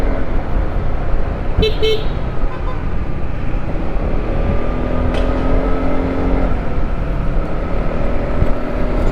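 Road traffic rumbles steadily during a rainy 3 AM motorcycle ride, with a short car horn toot partway through and passing vehicles swelling in the constant noise.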